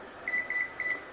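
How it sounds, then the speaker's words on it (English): Kitchen timer being set during food prep gives three short, high electronic beeps in a quick row, clear and close against a faint steady room hum. "I'll do kitchen timer. I'm gonna put another 10 minutes on there."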